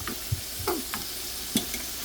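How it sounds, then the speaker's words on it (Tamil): Onions and oil sizzle in a pan for chicken curry, a soft steady frying hiss broken by a few light scraping stirs of a spoon, quiet and close. "வதக்கி பொரிக்க."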